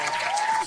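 A short burst of crowd applause sound effect, dense and steady clapping that cuts off after well under a second.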